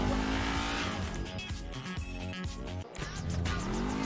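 A fast sports car engine roars and revs continuously with tire noise in Grand Theft Auto V, loud and up close, with no pauses.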